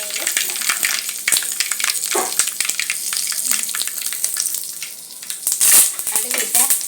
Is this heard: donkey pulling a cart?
no